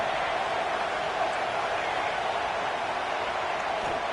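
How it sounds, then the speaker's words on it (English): A football stadium crowd roars continuously as the home fans try to help their defense, a dense, steady wall of noise with no breaks. "Listen to this crowd just shaking the girders of this place,"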